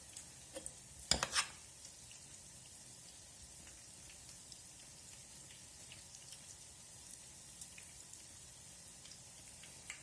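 Soft bubbling sizzle of cheese-filled pies frying in hot oil, quiet and continuous, with a few brief clinks near the start.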